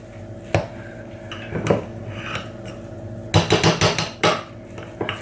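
Cranberry stuffing mixture being stirred in a mixing bowl, heard as sporadic clinks and scrapes of a utensil against the bowl, with a dense cluster of clattering knocks in the later half and no talking.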